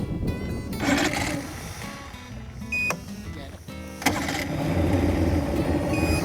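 A small boat's outboard engine cranks and catches after the throttle is advanced and choke applied, rough mechanical churning and clunks rising into a steady running drone, fairly close.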